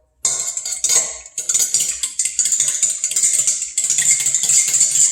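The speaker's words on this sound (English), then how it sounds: "Now we're going to whisk this together" A whisk beating pancake batter in a bowl, rapid rhythmic metallic clinking and scraping against the bowl, close and loud, with brief pauses between bursts of whisking.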